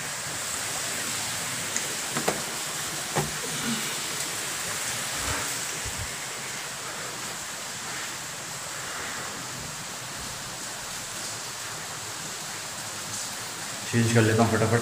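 Heavy rain pouring down in Jabalpur, a dense, constant broadband wash with a few scattered nearby knocks and a louder burst at the very end.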